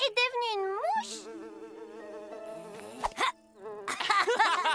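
A voice imitates a buzzing housefly, droning and wavering in pitch in close, loud bursts with short breaks between them.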